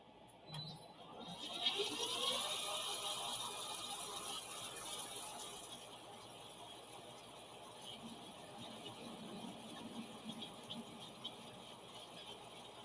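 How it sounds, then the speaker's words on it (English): A lathe bit runs across the face of a workpiece to flatten it, giving a faint, continuous mechanical whir and scraping hum with light rattles, steady throughout with no voices. "I'm going to go ahead and run my lathe bit across the face of this surface"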